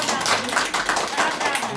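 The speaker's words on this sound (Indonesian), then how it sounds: "tepuk tangan untuk Ada." Students and teacher clap together during a class session on saving money, a dense and fairly loud patter with a loose pulsing rhythm, voices mixed in underneath.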